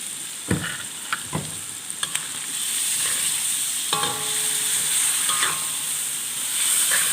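Pork belly stir-fried with red curry paste in a pan, with a few spatula knocks at first and then a loud, steady sizzle close up.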